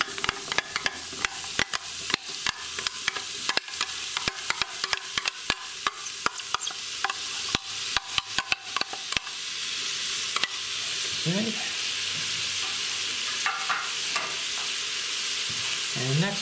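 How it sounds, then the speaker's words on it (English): Onions hit a hot pressure cooker and fry with a loud steady sizzle, while a spoon scrapes and clacks in quick irregular strokes through the first half before the sizzling carries on alone. "Now to this we're going to add our onions."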